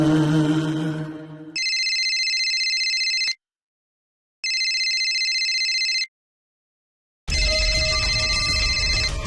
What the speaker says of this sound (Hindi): रिमझिम के पापा का फोन